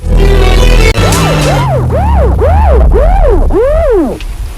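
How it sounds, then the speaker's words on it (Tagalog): A loud, close police vehicle siren starts with a steady tone, then rises and falls in repeated wailing sweeps, about five cycles, over low engine rumble. "Oh, dunay sakyan na sa pulis nga miunong."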